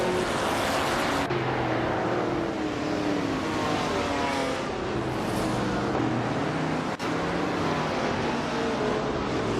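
Racing car engines in a video game, including a 1966 McLaren Elva Chevrolet, drone steadily and loudly with layered overlapping engine tones through the whole stretch, with a brief sharp knock near the end.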